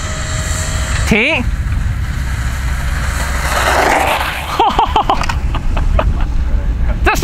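A homemade remote-control car built for about 120 km/h races at full throttle, its motor whining and rising sharply in pitch in short bursts, with people talking and calling out over it.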